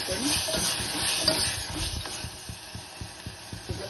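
Tomatoes frying in a pan for a fenugreek leaf chutney, a soft steady sizzle with scraping stirring strokes, close and moderately quiet, no voices.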